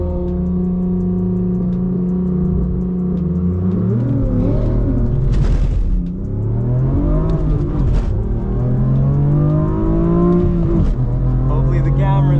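Manual BMW M4 launching down a drag strip, engine revving hard with rising and falling harmonics as it shifts through gears, loud and continuous throughout, briefly losing traction at the start.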